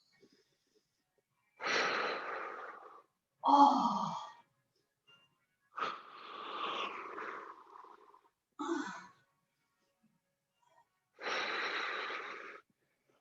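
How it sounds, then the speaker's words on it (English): Slow nasal breaths during a hip stretch exercise, five long inhales and exhales in turn with pauses between them, each a soft, airy rush heard up close in a quiet room. "Let's try some nasal breathing here now if we can."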